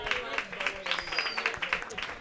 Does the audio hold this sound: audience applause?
yes